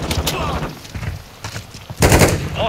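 Rapid gunfire bursts in a Call of Duty Modern Warfare 2 Team Deathmatch on the Shipment map, with loud clustered shots and a final heavy volley, over game voice lines and background commotion.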